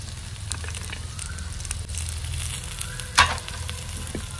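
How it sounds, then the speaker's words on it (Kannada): Boiled avare (hyacinth) beans fry in a pan for a chutney, giving a steady low sizzle throughout, broken by one brief clatter of stirring partway through. "ಬೇಯಿಸಿದ ಅವರೆ ಬೀಜವನ್ನು ಸ್ವಲ್ಪ ಇವಾಗ ಇದರ ಜೊತೆನೆ ಫ್ರೈ ಮಾಡುವಂಥದ್ದು."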